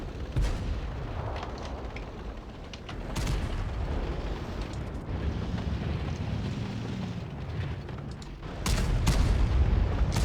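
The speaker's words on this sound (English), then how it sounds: "Quiet lands a huge shot on the E4" Tank cannon fire and explosions from a competitive tank video game match on a city map, with booming shots and blasts over a dense, continuous rumble and a louder burst of impacts near the end.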